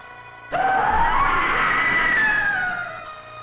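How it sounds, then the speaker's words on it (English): A long, wavering scream from a horror video game, rising and then slowly falling in pitch, loud and alone for about two and a half seconds before cutting off. "Is this a scream?"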